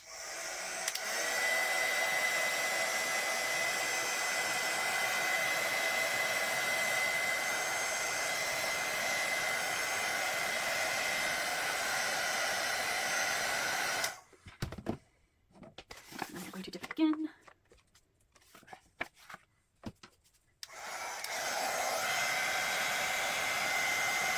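A heat dryer drying Distress Oxide ink swatches blows with a loud, steady whooshing roar for about fourteen seconds. It then cuts out into short quiet stretches with faint handling, and roars on again near the end.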